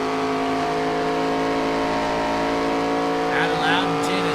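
A Ford Mustang race car engine in the iRacing video game, droning at a steady high pitch with a constant tonal whine, and a brief rise in revs near the end.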